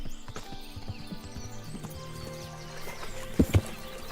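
Horse hooves clip-clop steadily at a walk in the medieval Kingdom Come Deliverance game, ending in two sharp, louder snorting whinny bursts near the end.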